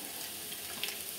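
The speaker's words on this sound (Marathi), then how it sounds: "अद्रक आणि लसूण थोडीशी लाल फ्राय झाले की मग आपण त्याच्यामध्ये हे 2 तेजपत्ता टाकूया" Ginger, garlic and bay leaves frying in oil in a pan, making a continuous soft sizzle with faint small crackles.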